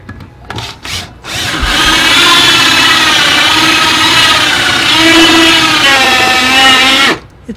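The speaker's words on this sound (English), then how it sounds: "just drill a couple holes and stick some PVC pipe in it" A power drill bores holes for PVC pipe while a circus ticket booth prop is being built. A few short bursts come first, then a loud, close, steady whine runs for about six seconds before cutting off.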